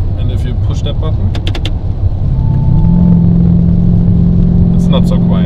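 Inside a Lamborghini Urus with a Novitec exhaust, the cabin is fairly loud with engine rumble, and after a button click the exhaust note grows into a heavier, steady drone as the flaps open.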